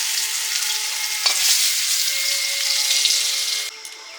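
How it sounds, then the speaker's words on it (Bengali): Potato and eggplant slices fry in hot oil, giving a steady bright sizzle with a couple of small pops before it abruptly quietens near the end. "আলু বেগুন ভাজা হয়ে গেছে নিয়ে নিচ্ছি"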